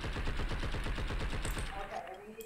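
Rapid automatic gunfire in the video game Blood And Bacon, a fast regular burst of loud shots that fades into softer game sounds, with voices talking over it.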